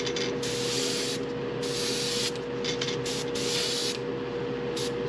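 Light coats of spray paint going onto a custom fishing lure, short hissing bursts of varying length over a steady background hum.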